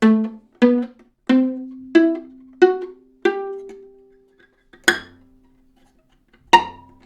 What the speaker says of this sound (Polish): I tak właśnie paznokciem pizzicato będzie brzmiało tak.